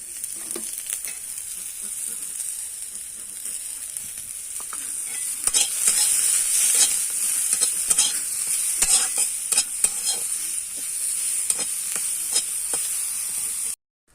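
Mashed bharta sizzles and fries in a pan while a spoon stirs and scrapes through it, a steady close hiss with repeated scraping strokes that ends abruptly.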